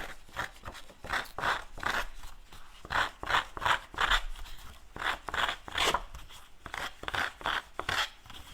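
Scissors snip through scrapbooking paper in quick, rhythmic bursts, a steady series of crisp cuts close by, with short pauses between runs.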